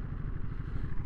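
A 2022 Ducati Monster motorcycle engine runs steadily in a low, continuous rumble, close and moderately loud, with no voices.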